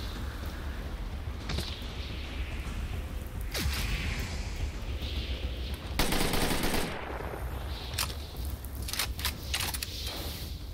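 Rapid automatic gunfire in the Deathgarden Bloodharvest video game crackles in repeated bursts over a constant rain-like background hiss, with sharper louder volleys in the middle and near the end.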